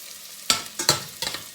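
Onion and garlic sautéing in a pan, three quick close bursts of sizzle and scraping from stirring over a faint background hiss.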